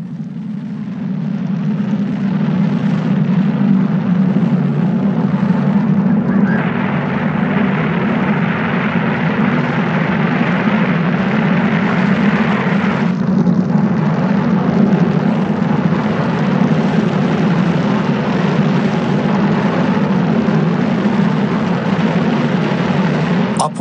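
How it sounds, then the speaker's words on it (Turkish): Saturn V rocket engines thundering at the Apollo 11 launch, a dense, sustained low roar with broadband rumble holding steady and loud for over twenty seconds. "Satürn 5'in çalışması insanoğlunun çıkardığı seslerin aksine 2000 kilometreden bile duyuldu"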